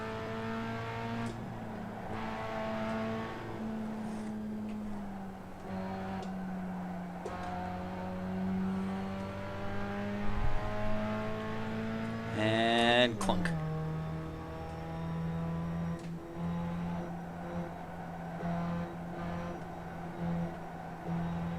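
Race cars in an iRacing Grand Touring Cup race at Mosport, including a Mustang and two Jettas, with engines droning and shifting pitch, one close car roaring past midway, while a driver talks over the racing.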